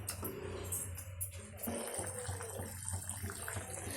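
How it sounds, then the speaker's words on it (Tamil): Water boiling in a pan of crab fry, a steady bubbling and hissing simmer heard up close, continuous throughout with no speech. "நல்லாவே கொதிக்க ஆரம்பிச்சிருச்சு இல்லையா"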